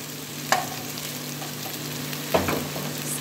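Chopped onions sizzle steadily in a hot pan for an Indian mutton dish, a constant close frying hiss broken by two brief stirring clatters.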